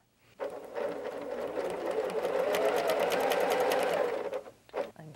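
A sewing machine runs a steady, continuous stitching whir while piecing straight quilt seams for a crossroads block, holding an even rhythm for about four seconds before stopping, with no talk over it.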